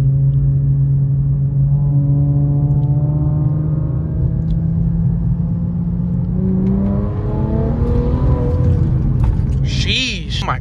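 Car pulling hard in third gear from 3,400 RPM, likely an Infiniti Q50 running E30 fuel, with a loud sustained engine note whose pitch climbs steadily, broken by a brief shift-like dip and ending as the throttle lifts.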